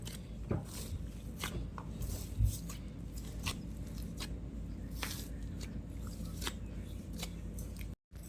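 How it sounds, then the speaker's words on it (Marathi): Dough for Koli vade being kneaded by hand with a little water: steady, close, wet squishing and pressing strokes repeating throughout with no talking. "असं पीठ मळून घ्या"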